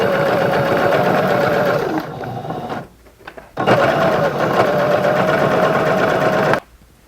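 A home sewing machine runs in two steady, fast-stitching bursts on fabric, close and loud, with a brief pause and rustling between them and a stop at the end, with no talking.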